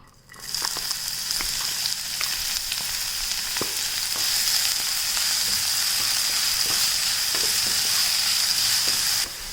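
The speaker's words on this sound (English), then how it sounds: "Take the finely chopped onions and fry them." Finely chopped onions fry in a teaspoon of hot oil in a pan, giving a steady, bright sizzle with a continuous hiss, broken by small pops and scraping taps, and no talking.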